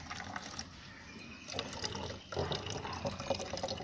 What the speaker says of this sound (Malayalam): നമുക്ക് ഇനി കുപ്പിയിലോട്ട് വിനാഗിരി ഒഴിക്കാം.